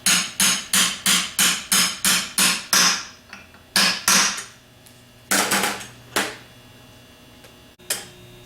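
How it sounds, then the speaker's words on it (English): Hammer blows drive a bushing home through a 3/8 extension while rebuilding a 10MT starter: a quick run of about eight evenly spaced metallic taps, then a few scattered heavier strikes with pauses, close and clear. "and then just tap it in gently with the 3/8 extension and the hammer"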